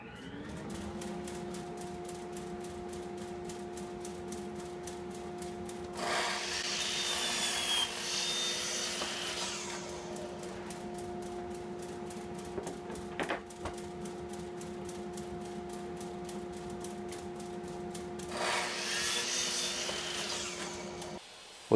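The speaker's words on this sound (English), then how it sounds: "I then measure them and cut them to length on the miter saw" A miter saw runs with a steady motor whine and makes two loud bursts of cutting through plywood, each lasting a couple of seconds, close and unaccompanied by speech.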